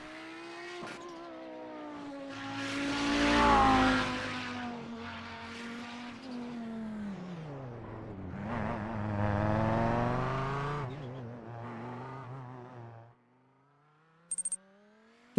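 An Audi five-cylinder race car engine in the iRacing sim revs with a rising, buzzy pitch, drops through a gear change midway, climbs again, then fades away near the end.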